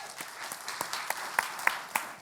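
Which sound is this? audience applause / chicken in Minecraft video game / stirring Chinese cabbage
audience applause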